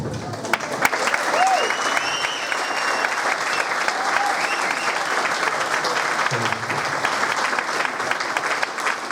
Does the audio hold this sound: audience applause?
yes